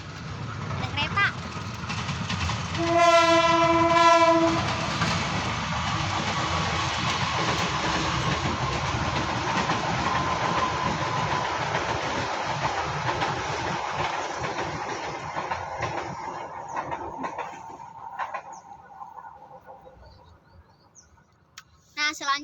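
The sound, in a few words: passing train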